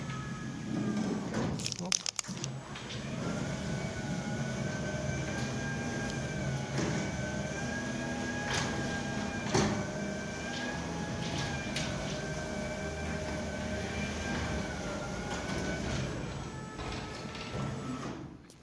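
A Steelon GN1000 PLUS belt-driven gate opener motor runs steadily in a garage, producing a continuous mechanical hum with a few clicks near the start, fairly close and moderately loud.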